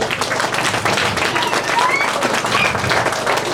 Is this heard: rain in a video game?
no